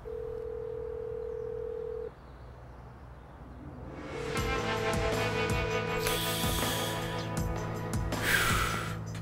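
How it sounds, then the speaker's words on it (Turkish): A telephone call being placed: a steady dial tone holds for about two seconds, then repeating ringing tones follow over faint background sound. "Aç şu telefonu ya."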